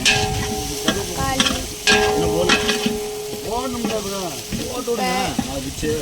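Tomatoes frying in a hot pan, a close, bright sizzle with stirring scrapes, while a voice carries on over the cooking.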